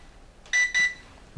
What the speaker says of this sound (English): beeping that I should not be driving if I was drinking alcohol